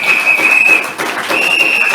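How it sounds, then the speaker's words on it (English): Audience at a UNC political report event applauds for the party's lawyers, a steady dense wash of clapping lasting about two seconds, briefly dipping in the middle before resuming at full strength. "Give them a round of applause."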